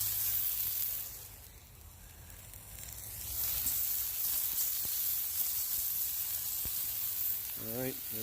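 Chicken breasts sear on a 28-inch Blackstone griddle, a loud continuous sizzle that dips briefly then swells again, with a couple of light utensil taps and a short bit of voice near the end.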